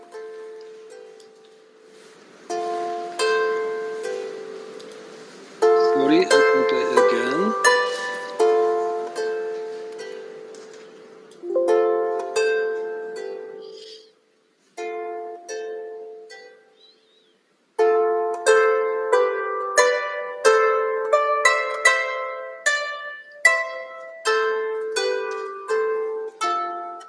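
The medieval tune Nobilis Humoris is played as a clear melody of plucked or struck tones, close and alone, in several phrases separated by short pauses.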